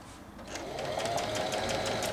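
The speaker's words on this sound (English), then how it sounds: "So I'm going to put it on my sewing machine like this. Then I'll start stitching." A sewing machine stitches Ankara fabric, running steadily, its needle whirring in a fast, even rhythm that grows slightly louder after a brief start.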